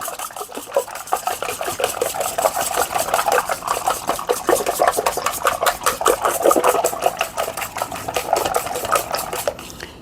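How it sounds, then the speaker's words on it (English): Eight eggs being whisked in a bowl, rapid rhythmic clicking and sloshing of a whisk against the bowl, steady and close for several seconds without any speech. "I have my 8 eggs in my bowl here, and I'm just going to mix them up"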